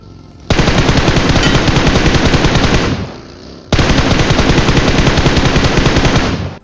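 Loud automatic gunfire from the game PUBG Mobile / BGMI comes in two long, sustained rapid bursts, separated by a short pause.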